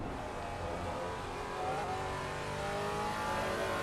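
Race car in Assetto Corsa Competizione, a dense steady engine drone holding and gently climbing in revs over a few seconds, constant and fairly loud, without speech.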